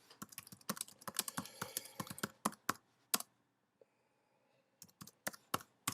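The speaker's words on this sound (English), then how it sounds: "and you type in" Fingers tap quickly on a computer keyboard in bursts of close, crisp keystrokes, pausing briefly before a few more scattered key presses.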